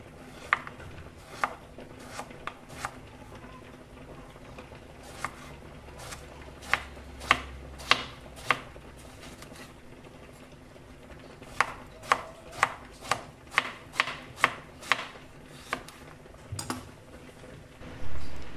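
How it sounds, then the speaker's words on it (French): Two partly peeled eggplants are cut into rounds with a knife on a board: a steady run of crisp, close chops, loosely rhythmic with short pauses, with no talking. "puis je les coupe en rondelles"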